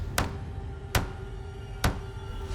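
A door is knocked on again in three slow, evenly spaced sharp raps over a faint low background hum, each knock crisp and close.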